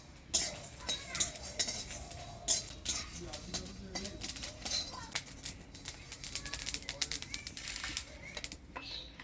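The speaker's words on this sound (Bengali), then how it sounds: "কাঠখোলায় মশলাগুলো ভাজে নিচ্ছি" Dried red chillies, cumin, coriander seeds and bay leaves are dry-roasted in a clay roasting pan, stirred with quick scraping rattles and clicking taps, close and busy throughout.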